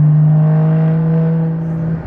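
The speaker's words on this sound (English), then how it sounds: "Listen for like air induction." A Porsche GT4 engine holds a steady, loud idle or light rev with a deep, even drone and a faint airy intake whoosh over it, continuous and close for about two seconds.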